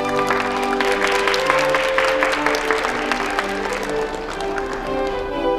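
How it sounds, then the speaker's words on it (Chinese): Audience applause for a dancing couple at an evening party, steady dense clapping filling the whole stretch over background music with a sustained tonal hum, fairly loud and close. "掌声送给他们。"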